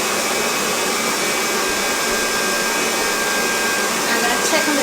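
An electric mixer beats butter until creamy for a chocolate marquesa cake, giving a steady, loud motor whir with no break throughout.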